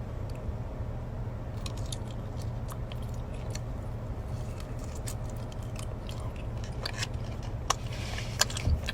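Korean fish cake (odeng), taken with refilled broth, is chewed close to the mic, with soft wet bites and small squishy mouth sounds repeating over a steady low background hum.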